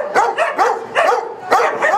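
Up close, a guard dog lets out a rapid run of sharp, loud barks in an uneven rhythm, pausing briefly between bursts.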